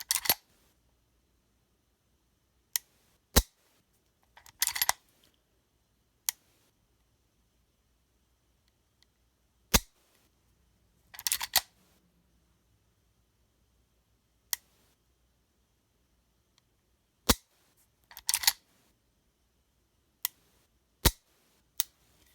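Sparse, sharp mechanical clicks from a CZ Shadow 2 pistol trigger fitted with a CZ Custom short-reset disconnector, spaced a few seconds apart with occasional quick doubled clicks, close and crisp against near silence.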